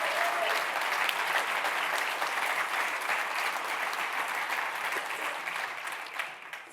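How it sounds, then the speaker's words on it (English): A conference audience gives a warm, sustained round of applause for a departing staff member at the closing session. The dense clapping holds steady for several seconds, then thins slightly toward the end. "I'd love you to give her a very warm round of applause for all of her hard work."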